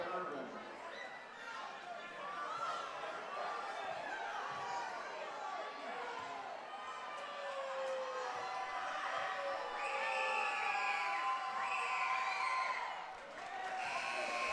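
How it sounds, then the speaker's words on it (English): Crowd noise at a high school boys basketball game, Seaman against Topeka West, with cheering and whoops swelling and fading for several seconds amid chatter, heard at a distance under a commentator's talk. "Seaman crowd hyped up, and T-West crowd letting the refs hear it"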